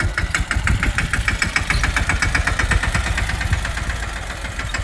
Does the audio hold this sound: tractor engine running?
yes